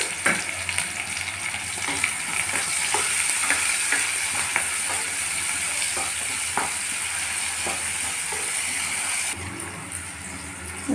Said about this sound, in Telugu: ఉల్లిపాయలు ఎర్రగా వేగాలి.